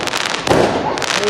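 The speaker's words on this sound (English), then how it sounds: "Oh my god, this fireworks." Fireworks burst overhead on a night in Wales, a quick loud crackling explosion with a spreading fizz, while a voice exclaims over it.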